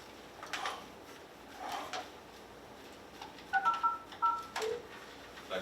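Mitel office phone keypad tones being dialed to reach voicemail, a quick run of short beeps in a cluster after a few soft handling clicks, fairly quiet and close.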